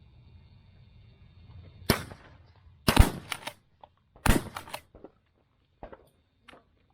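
Shotgun blasts during a dove hunt in Uvalde, Texas, in the central zone: several sharp outdoor shots, two close together then one more after a pause, followed by faint scattered noises.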